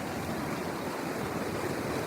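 Wind blowing outdoors in cold, snowy weather at about 29 degrees beside a catfishing spot, a steady, close broadband rush with mic buffeting that continues without a break and with no voices.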